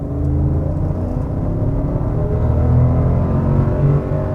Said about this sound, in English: I'm gonna give it some gas here.